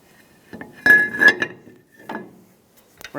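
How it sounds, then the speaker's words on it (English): Metal brake rotor being fitted onto the front hub of a 2007-2017 Ford Expedition: a few bright metallic clinks and scrapes, one ringing strike, then quieter taps and a final clank. "Install the rotor."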